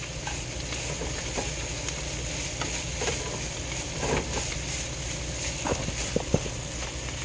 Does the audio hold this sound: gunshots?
no